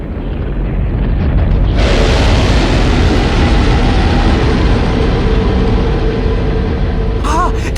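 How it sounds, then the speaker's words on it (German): A rocket landing sound effect for a radio play: a rising, roaring rumble that swells within a couple of seconds into a loud, sustained blast, with a faint squeak near the end. "Dort landet ja eine Rakete."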